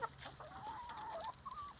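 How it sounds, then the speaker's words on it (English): Chickens cluck softly and fairly close, a short burst of low clucks and a drawn-out warbling call, with no talk over them. "Catch the chicken. Catch the chicken. Come on, catch the chicken."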